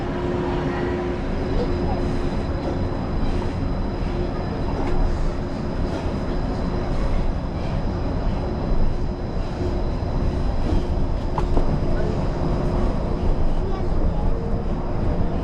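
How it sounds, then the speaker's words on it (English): Steady rumble and rolling hum inside a Disneyland Monorail train running toward Tomorrowland, continuous and fairly loud throughout, with a faint high whine and light rattles, and no speech. "welcome aboard the Disneyland Monorail"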